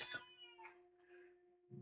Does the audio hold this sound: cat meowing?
yes